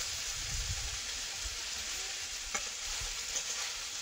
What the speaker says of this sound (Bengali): নোনা মাছ দিয়ে বরবটি আর পেঁয়াজ কালি ভাজা